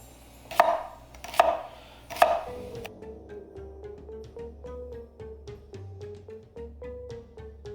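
A knife chopping cucumbers for bread and butter pickles, three crisp, loud chops on a board in slow succession, then a quieter stretch of faint kitchen sounds.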